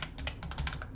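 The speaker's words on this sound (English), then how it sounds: "you type in your manufacturer" Rapid typing on a computer keyboard, a quick uneven run of close, crisp key clicks lasting under a second with no talking.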